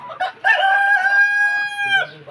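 A tiger-breed rooster gives a single long, loud crow close by, rising sharply and holding a steady strained note for over a second before trailing off, with faint farmyard sounds around it.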